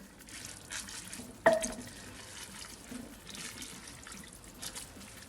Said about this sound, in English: now what we're going to do is just stir the spinach in